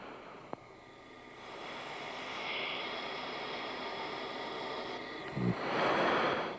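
Inside the cockpit of an F-16 fighter jet flying at Mach 1.5 at 43,000 feet, a faint, steady broadband roar of wind and engine fills the background, with a brief click and a couple of soft bumps.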